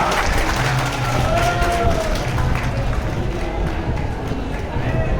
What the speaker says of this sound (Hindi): आप ताली बजा दो सब